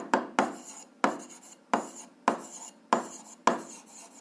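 Quick handwritten strokes from writing out the conditions of a school physics problem, seven short raspy scrapes spaced about half a second apart, close and fairly quiet, with no talking.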